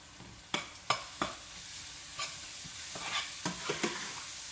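Green onions frying in a pan as they are stirred, with a soft steady sizzle beneath a series of sharp scraping and tapping strokes of the utensil, close and fairly quiet.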